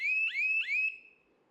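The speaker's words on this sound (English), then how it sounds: "Our very own motion alarm is active and working. Every time an object passes, the buzzer alerts us." Homemade motion-alarm buzzer sounding three rapid, shrill rising beeps in close succession, loud and near, then cutting off into quiet.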